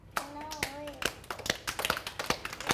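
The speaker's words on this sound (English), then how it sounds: "clap your hands." A classroom of children clapping their hands in scattered, uneven claps, mostly near and sharp, while a teacher's voice speaks briefly at the start.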